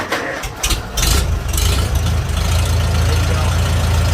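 A Farmall tractor engine, given a little choke at about third throttle, cranks and catches, then settles into a loud, steady low idle with a thumping rhythm close by.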